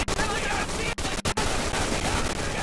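Dense machine gun fire in the World War II shooter Day of Infamy at a Dunkirk invasion, a loud continuous rattle of rapid shots broken by a few brief pauses.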